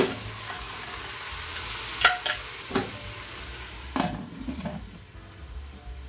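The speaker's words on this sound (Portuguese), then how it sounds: "Coloquei uma cebola aqui agora, ó. Deixar uma fritadinha também." Onion frying and sizzling in a pan for a beef rib and vegetable dinner, a soft steady hiss with a few utensil stirs and scrapes against the pan, quiet and close.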